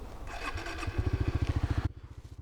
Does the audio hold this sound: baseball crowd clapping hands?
no